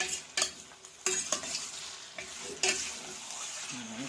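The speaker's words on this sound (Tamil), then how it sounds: "நல்லா ஹை ஃப்ளேமில் உங்களுக்கு அது வந்து வதங்கணும் அந்த வெங்காயத்தோட" Onions for a semi-gravy chicken curry sizzle and fry on a high flame, with several loud stirring scrapes and clatters over a steady crackle, close and alone.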